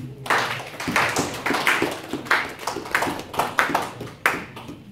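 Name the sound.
congregation clapping in church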